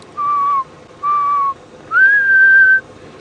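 A person whistles an imitation of a black cuckoo's call on a safari drive toward a river, giving three clear, loud whistled notes: two short falling ones, then a longer sustained rising note, with no talk.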